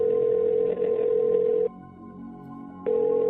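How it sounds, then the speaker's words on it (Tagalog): Steady electronic ringback tone on a phone call that goes unanswered, one long sustained tone, a gap, then the tone returning, loud and close. "Wala eh. Nagriring lang."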